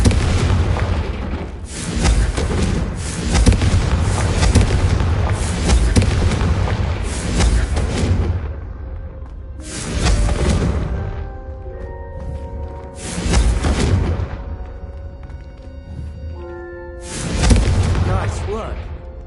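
Repeated booming blasts from Confringo fire-spell casts in a wizarding video game, several heavy explosions with long rumbling tails spaced a few seconds apart, loud and close, with game voices and music in between.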